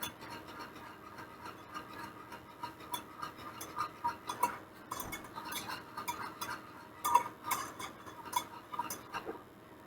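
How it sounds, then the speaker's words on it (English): A metal spoon scrapes and clinks against a pot while stirring mashed potatoes and gravy, an irregular soft rubbing with occasional light taps, close and fairly quiet with no talk. "Now I'm going to add my last little bit in and still just continue to stir"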